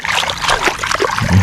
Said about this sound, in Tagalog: Patawidin natin ang tubig dito sa kabila